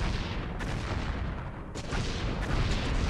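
A string of TNT blasts in a Minecraft-style parkour game forms a loud, continuous rumble with repeated bursts, alone without voices.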